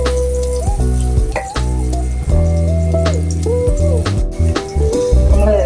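Onions and other ingredients for a mackerel curry sizzle in a pan, a steady crackling fry close by. Stirring and scraping break in now and then.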